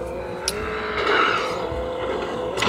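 Car engine droning steadily in Grand Theft Auto V, with a brief tire screech and skidding sounds breaking through the continuous motor noise.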